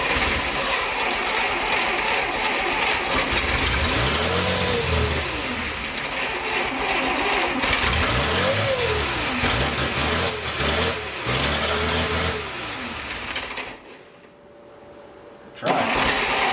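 A 1941 Plymouth barn find, not started in 50 years, cranks over with a rising and falling starter whine in several bursts, the engine sputtering and revving loudly between them before it drops off near the end.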